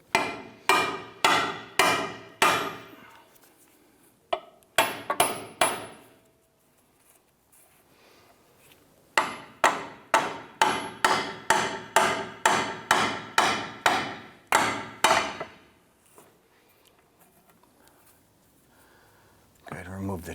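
A hammer strikes a chisel again and again to split a ball joint from the steering knuckle on a 2008-2013 Nissan Rogue, in fast bursts of sharp metallic blows separated by short pauses.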